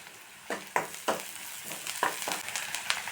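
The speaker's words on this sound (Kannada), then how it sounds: "ಈರುಳ್ಳಿ ಹಾಕೊಂಡು ಚೆನ್ನಾಗಿ ಕೆಂಪಾಗುವಂಗ ಫ್ರೈ ಮಾಡ್ಕೊತೀನ್ರಿ" Onions frying with ginger garlic paste in a pan for a paneer masala curry, a steady close sizzle broken by repeated scraping strokes of a spatula stirring the mixture.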